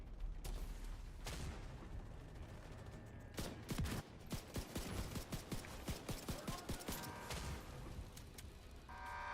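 Gunfire in the video game The Division 2, distant shots building into dense bursts of rapid automatic fire and booming impacts, fairly quiet in the mix.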